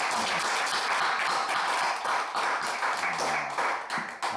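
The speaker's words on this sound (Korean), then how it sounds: "우리 박수 한 번 더 하죠." A church congregation at a Sunday worship service claps together, a dense, fairly loud wash of many hands that continues steadily and tapers slightly near the end, with faint voices underneath.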